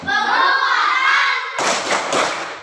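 Children in a classroom perform the P5 (Pancasila student profile project) clapping chant, starting with a sustained shouted chorus of young voices and then breaking into rapid, dense group hand claps in quick bursts.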